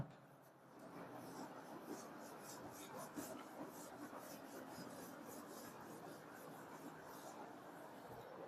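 Writing is rubbed off a board with a soft, continuous scrubbing rasp in repeated strokes, close and quiet, with no talking over it.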